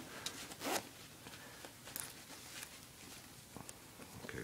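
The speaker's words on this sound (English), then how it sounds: "Got a brass metal zipper." Brass metal zipper on a military garment being handled, faint scratchy rustles and a short zipping rasp amid cloth handling, close and quiet, no talk.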